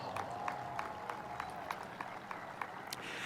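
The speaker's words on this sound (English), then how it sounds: "Give yourself a round of applause." Audience applause at a city's State of the City address, moderate clapping from a crowd with distinct individual claps standing out at an even, lively pace, heard at some distance.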